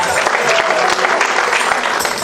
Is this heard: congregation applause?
yes